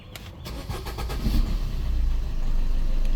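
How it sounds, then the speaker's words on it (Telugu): A 2017 Maruti Breeza ZDI Plus diesel engine cranks briefly and catches, then settles into a steady, loud, low diesel idle heard close up. "ఇంజన్ స్టార్ట్ అయింది. సింగిల్ సెల్ఫ్ అన్నమాట."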